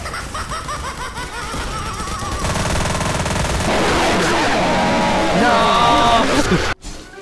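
Infinity gun firing in the Garry's Mod video game during a boss fight, a dense rapid stream of loud gunfire and effects that builds and continues throughout, with players laughing and talking over it.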